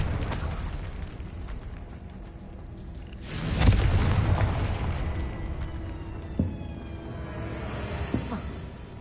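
Confringo blasting spell explosion in a wizarding fantasy video game, a swelling boom with a crackling burst and rumbling tail, followed by smaller pops over ambient game sound.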